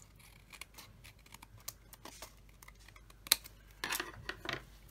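Scissors snipping excess card while making a double flip card, a few short crisp cuts close by followed by a louder cluster of paper rustles and snips, with no voices.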